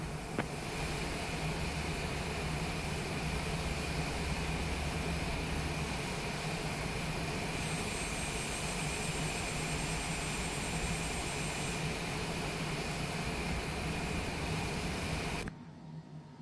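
A Cessna Citation Longitude business jet taxiing in Microsoft Flight Simulator 2024 gives a steady, loud engine whine and roar that holds without a break and then cuts off abruptly near the end.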